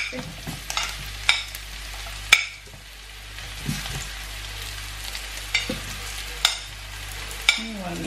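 Mushrooms fry in butter in a pan, a low continuous sizzle punctuated by several sharp clicks and knocks of a utensil against the pan at irregular intervals, close by and without talk.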